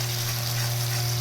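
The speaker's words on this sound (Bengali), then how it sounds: "একটু জিরে গুঁড়ো দিয়ে মশলাটাকে একটু কষিয়ে নেব।" Spice masala with cumin powder frying in oil for a Tangra fish curry, a dense, continuous close sizzle with faint stirring and no talking.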